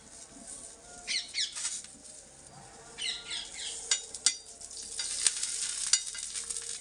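A cauliflower-stuffed paratha cooking on a pan after being flipped gives a soft continuous sizzle with a few scraping stirs and sharp clicks, while faint bird chirps sound in the background; no one speaks.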